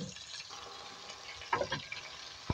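Cumin and chopped vegetables frying in a pan, a quiet sizzle broken by a few short stirring scrapes and a sharp clack near the end, close and faint.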